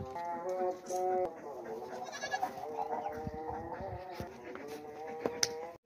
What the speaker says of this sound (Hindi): ये बकरा है भाई, बड़ा ही ताकतवर है और बहुत होशियार है